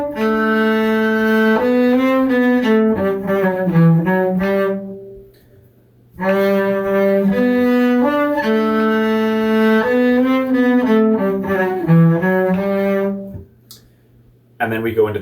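A cello plays measures 24–26 of Suzuki's Rondo Grazioso from the Sonata in C Major, two short bowed phrases of clear sustained notes separated by a pause, close and fairly loud.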